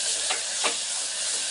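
Ginger garlic paste frying in a pan for vegetable pulao gives a soft continuous sizzle with two quick spatula scrapes, short and without voices.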